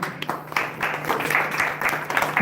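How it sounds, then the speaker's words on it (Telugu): At a Ganesh laddu auction, a crowd of devotees claps steadily for a couple of seconds. The applause is moderately loud and dense over a low, constant hum, with no talking. "చప్పట్లు ప్లీజ్."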